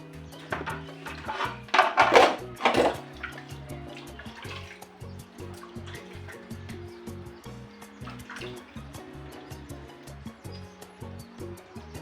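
Water pours and splashes into a pot holding duck being washed, louder at first then settling into softer trickling and drips, close by with no talking.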